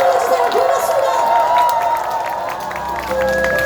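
A festival audience at the Gimhae Gaya Festival applauds and cheers, a dense, steady wash of clapping and crowd noise that sits under a sustained tone and carries on throughout.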